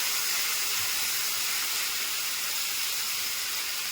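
Ginger and cumin paste cooks in oil alongside cumin seeds and bay leaves, producing an even, continuous sizzling hiss at moderate loudness, unbroken from start to finish.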